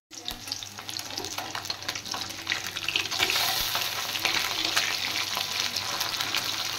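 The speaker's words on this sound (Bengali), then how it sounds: "তাহলে মাছগুলো ভেজে নেই" Small puti fish frying in oil in a pan, giving a steady, close, continuous sizzle with a crackly hiss that grows slightly louder partway through.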